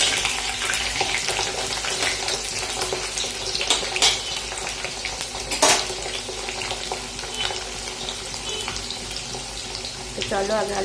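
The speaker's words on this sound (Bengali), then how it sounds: "তো চলো আগে আলুটা ভেজে নিই" Potatoes sizzling in hot oil left over from frying luchi, a continuous hissing crackle with scattered pops and a couple of utensil clinks, close and steady throughout.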